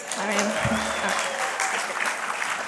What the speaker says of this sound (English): What, no applause?